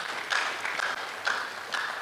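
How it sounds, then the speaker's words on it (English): Audience at an African business forum and expo applauding a panel of speakers, a moderately loud patter of many hands with a few swells in intensity, heard from the room. "Please, let's give our speakers, a panel, another round of applause."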